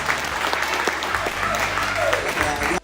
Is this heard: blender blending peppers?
no